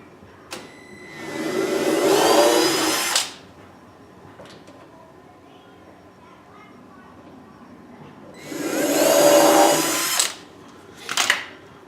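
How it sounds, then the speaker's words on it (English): A power drill whirs in two bursts of about three seconds each, drilling screw pilot holes, fairly close, with a short spin-up at the end and quiet room noise between. "I'm going to drill the pilot holes in here for the screws."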